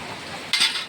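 A metal lid clatters down onto a cooking pot set on a lit clay stove, one sharp clank cutting through the steady sizzle and bubbling of a Bengali fish and vegetable curry.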